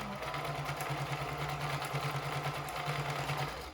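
A sewing machine runs steadily as it back-stitches a fabric face mask from top to bottom, a continuous close motor whir with a rapid even needle rhythm and no talking.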